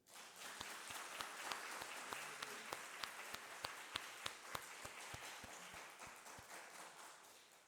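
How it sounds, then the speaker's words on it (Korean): A church congregation applauds during a worship service, broad steady clapping from many hands with a few rhythmic unison claps punching through the wash, easing off toward the end. "우리 하나님께 영광의 박수 올립시다."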